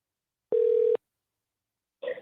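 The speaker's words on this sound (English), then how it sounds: "You can go ahead and pull the phone up, Scott." A steady electronic telephone tone sounds for about half a second, followed after a pause by a brief, rougher tone, as a phone is brought up to place a podcast call; no speech.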